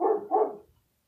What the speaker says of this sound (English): Fucking dumbass dog, bro.